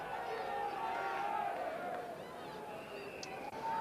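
A 1970s football crowd at a Millwall home match against Brighton, waiting for kickoff: a dense continuous roar of many voices with scattered shouts, heard at a distance.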